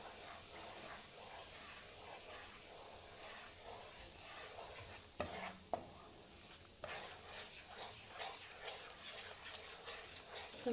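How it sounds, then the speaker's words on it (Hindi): Maida flour roasting on low heat in a pan for halwa, a faint, quiet sizzle with occasional spoon scrapes and stirring knocks. "अब मैं इसमें ऐड करूँगी मैदा और बिल्कुल हल्की आंच पे इसको फ्राई करूँगी।"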